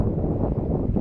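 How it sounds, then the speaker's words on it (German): Gusty wind at a Montenegro viewpoint rumbles low against the microphone for a brief moment, constant and fairly loud, with nothing else audible. "Und windig ist es"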